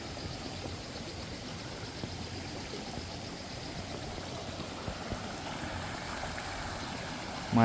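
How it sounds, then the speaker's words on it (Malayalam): Water rushing down a waterfall in Meghalaya, heard as a steady, broad, fairly faint roar from a short distance with no talking, ending in a brief louder thump. "ഇവിടെ നിന്നാണ് വെള്ളം താഴേക്ക് ചാടുന്നത്."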